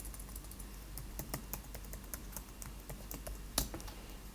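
A username and password are typed on a computer keyboard, a quiet run of quick, uneven key clicks with one sharper press near the end, no talk.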